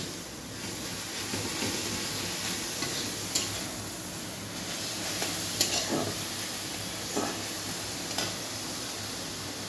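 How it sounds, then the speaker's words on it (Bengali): Red amaranth greens frying in a pan, a continuous sizzling hiss with occasional light clicks and stirring scrapes, heard close and at a moderate level with no talk. "একটু লাল শাকের ভাজা হচ্ছে"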